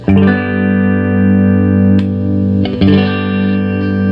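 A 1989 Fender HM Strat with a Super Distortion bridge pickup plays loud sustained distorted chords through a Marshall amp, rich in overtones with a brief break near the end.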